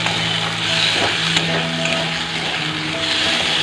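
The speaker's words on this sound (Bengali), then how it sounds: "এই যে মশলা ভাজছি দেখো" Spices fry in a pan for a fish curry, giving a steady close sizzle with light stirring and faint clinks throughout, and no talk.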